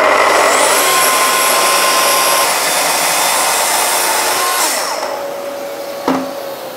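Power saw ripping through a wooden dining tabletop near its edge, a loud steady high whine that winds down toward the end, followed by a single sharp knock.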